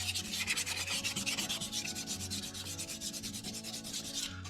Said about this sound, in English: now I'm going to use a red Scotch-Brite along with some sandpaper